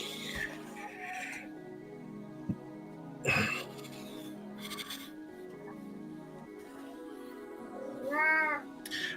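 A cat meows a few times, faint and scattered over a quiet room with a low steady hum, the clearest cry rising near the end.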